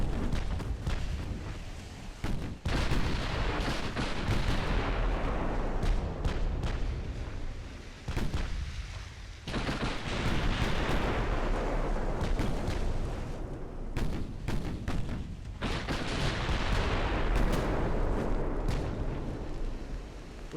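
Heavy naval gunfire from warships in Ultimate Admiral: Dreadnoughts, with loud, dense booms and rumbling blasts rolling almost continuously, punctuated by sharper cracks and brief lulls, heard alone without talk.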